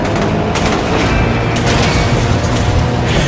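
Explosions and crashing mechanical noise in the driving game Stuntman: Ignition, a loud dense rumble with booming bursts and clattering debris, continuous and close.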